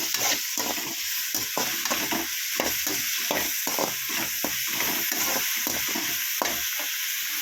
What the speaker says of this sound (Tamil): தக்காளி நல்லா வதங்கி வரட்டும்.